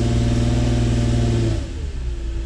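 A car engine idles steadily with a low hum, then the tone drops and shifts as the transmission slips into gear.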